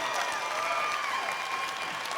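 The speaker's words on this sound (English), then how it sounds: "Let's give these gentlemen an applause." Crowd applause for fighters in a cage after a three-round bout, a steady, somewhat distant wash of clapping with faint voices and a tonal sound sweeping through.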